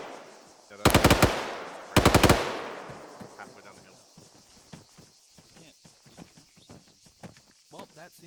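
Two loud, close bursts of machine gun fire ring out during military training, each a rapid rattling volley, followed by voices talking, footsteps and scattered faint shots further off.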